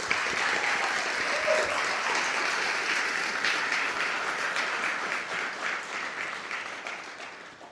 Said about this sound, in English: Please give a huge round of applause for all of our sponsors,